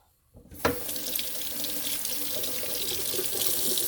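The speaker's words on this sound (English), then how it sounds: "I'm going to give her a good rinse off." Tap water runs steadily into a sink while Alocasia Polly roots are rinsed off during repotting, starting abruptly after a brief quiet moment and continuing as a close, broad hiss with splashing.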